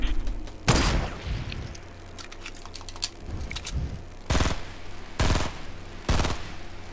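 Bursts of rapid gunfire in a Fortnite Battle Royale match, a few short volleys spaced a second or so apart against a quiet background with faint clicks.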